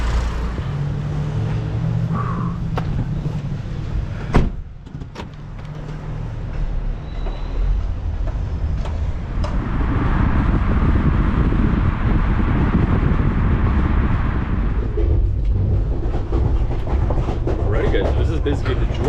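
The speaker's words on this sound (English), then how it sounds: "Basically the Georgian train for you." Georgian passenger train pulling out of Tbilisi, heard from inside a carriage as a steady loud rumble and rolling rail noise, swelling stronger midway with a brief clunk near the start.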